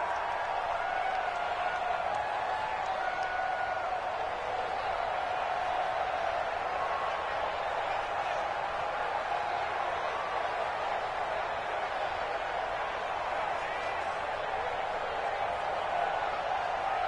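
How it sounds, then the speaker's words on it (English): A football stadium crowd roars in a steady, loud, continuous wash of cheering and noise ahead of a big third down, with no single voice standing out. "the crowd getting into it as we come up on a big third down"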